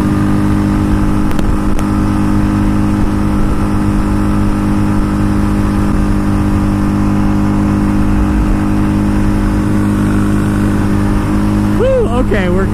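A 2014 Yamaha Raptor 700 ATV runs at speed on an interstate, its engine droning loud and close under strong wind rush, with a short rising rev near the end.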